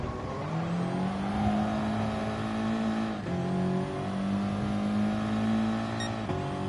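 An Audi TT race car in Gran Turismo revs hard through second gear, its engine note climbing steadily in two long pulls with a brief dip at the shift, loud and close with no talking.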